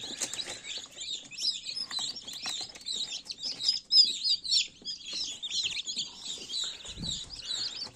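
Newly hatched chicks peep inside an egg incubator, a steady stream of high, thin, overlapping chirps, soft and close, with a low thump near the end.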